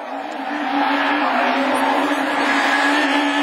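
Super 1600 rallycross car braking hard and cornering, engine note loud and close with a steady harmonic drone, possible tyre scrub, no pause over the short stretch.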